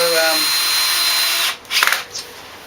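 A power drill drives screws while a BSD unit is assembled, whining loudly and steadily for about a second and a half, then cutting out and followed by a few short bursts and clicks.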